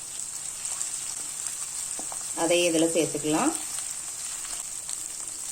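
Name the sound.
chili powder and spices sautéing in oil for masala pasta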